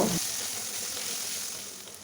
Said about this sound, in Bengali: আদাটা দিয়ে আবারও 1 থেকে 2 মিনিটের মতো একটু নাড়াচাড়া করে নেব।